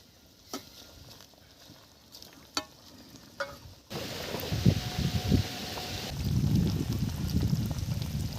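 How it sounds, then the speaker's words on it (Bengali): Kulekhara greens dropped into a boiling fish broth, with a few light clinks and taps first, then a louder continuous bubbling and rustling as the leaves go in and simmer close by. "ঝোল ফুটে গেছে, দিয়ে দিচ্ছি কুলেখাড়া শাক।"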